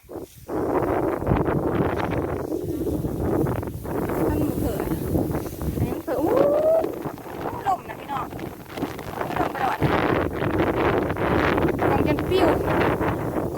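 Wind buffets a microphone outdoors at a Thai rice harvest, a steady rumbling roar lasting throughout with brief gusts, while people talk faintly beneath it.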